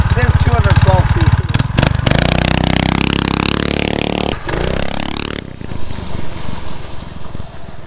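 A 212cc single-cylinder mini bike engine chugs and revs loudly nearby, pitch rising and falling, then drops to a rough idle while voices talk.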